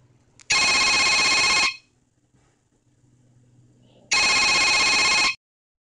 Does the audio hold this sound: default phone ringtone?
yes